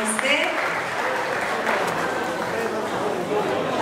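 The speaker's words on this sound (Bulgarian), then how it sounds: "Аплодисменти за нея!" Wedding guests applaud at a celebration, a continuous wash of clapping mixed with crowd chatter and voices, fairly loud and steady throughout.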